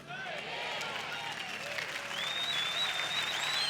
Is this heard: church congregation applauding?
yes